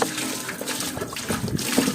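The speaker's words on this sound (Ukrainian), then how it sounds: "І виливаємо воду" Water that has been used for melting beeswax is poured out, making a soft, uneven splashing trickle that surges and fades in gentle bursts, fairly quiet and close.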